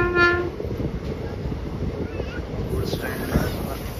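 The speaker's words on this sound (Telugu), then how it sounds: "పక్కన గుడ్స్ బండి అయితే" A goods train rumbles past alongside a passenger train halted at Mahbubnagar station, with a loud horn blast at the start and continuous near rolling and clanking noise after it.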